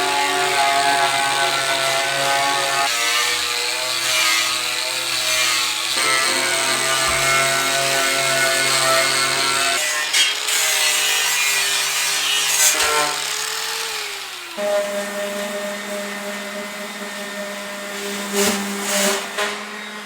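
An angle grinder with its guard removed runs a disc through metal for an ugly drum smoker build, a loud continuous whine whose pitch shifts several times as the cut loads and eases.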